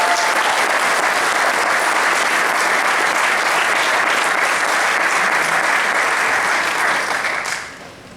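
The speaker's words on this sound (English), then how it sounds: "I'd like to give him a round of applause" A crowd at a 2015 athletic hall of fame ceremony breaks into sustained applause, a loud, dense roar of clapping that holds steady for several seconds before tapering off near the end.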